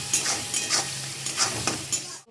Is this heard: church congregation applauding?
no